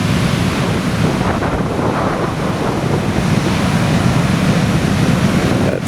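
Torrent of water released from the base of Wellington Dam, a big dam, rushing in a continuous loud roar with wind buffeting the microphone, steady and close throughout with no voices.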